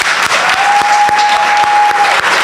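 A crowd at a harvest celebration breaks into dense, steady applause, loud and close, with a few sharper individual claps standing out and a faint sustained tone running through the middle.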